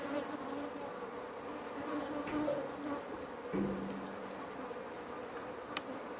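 Honey bees buzz steadily around a hive frame outdoors, a dense continuous droning swarm close by with slight rises in intensity.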